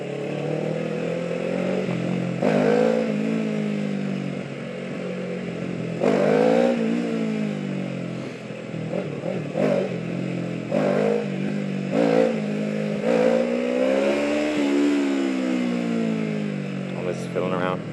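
Motorcycle revving repeatedly while pulling a string of small wheelies, the engine note rising and falling in close bursts, with people talking over it.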